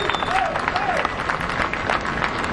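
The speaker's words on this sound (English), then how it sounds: "Some down there chanting USA. They're clapping." A crowd gathered below One World Trade Center claps and cheers as the building tops out, a steady, dense wash of applause and babble heard from a distance throughout.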